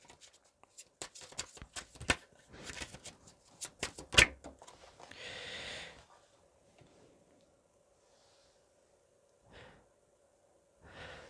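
Tarot cards, including an Angel Tarot deck, riffle and slide in a brief papery burst midway, with scattered soft taps and handling clicks before it and a faint steady hum underneath.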